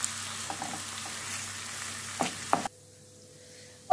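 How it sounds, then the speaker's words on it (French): Onions reducing with balsamic vinegar in a pan, a soft steady sizzle with a few stirring clicks, cutting off abruptly to near silence. "on ajoute une belle cuillère à soupe ou l'équivalent de vinaigre balsamique et on va laisser réduire jusqu'à ce qu'il n'y ait plus de jus"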